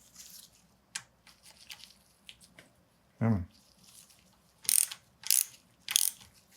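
Tightening a bolt on a Shimano SLX brake lever makes a few soft ticks, a dull knock, then three sharp, close bursts of clicking near the end, with quiet gaps between them.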